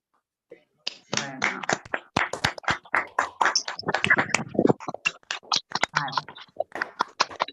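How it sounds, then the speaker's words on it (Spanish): An online audience at a penal system and community conference applauds a letter over open microphones, with scattered, irregular claps and taps mixed with voices. "necesitamos abrir como algún micrófono y aplaudir esa carta primero."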